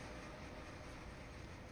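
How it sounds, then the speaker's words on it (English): A Dash 8 locomotive slows under braking during yard work between Miami and West Palm Beach in a train simulator game, heard as a faint, steady rumble with no voices. "Train slows down way too fast, I tell you."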